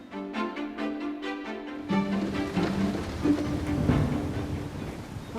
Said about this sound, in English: the wind and the rain is blowing straight into mine